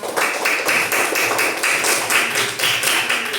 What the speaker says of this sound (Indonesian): Kita beri aplaus dulu untuk Daryl karena sudah menjawab.